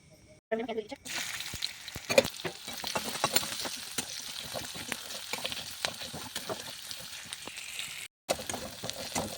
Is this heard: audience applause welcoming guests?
no